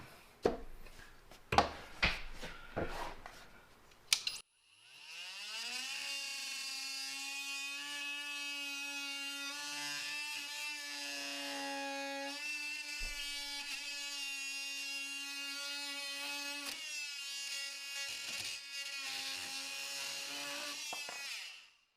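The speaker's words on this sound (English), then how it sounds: "I thought these oscillating tools were dumb until I used one" An oscillating multi-tool cuts scrap pipe near a ceiling, starting after a few clicks and handling noises and then holding a loud, steady high-pitched buzzing whine for many seconds before stopping.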